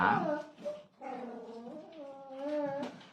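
A dog whimpers and gives short yips and whines, fairly faint and close, in a few rising and falling bursts with brief pauses between them.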